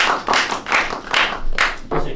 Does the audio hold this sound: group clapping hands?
yes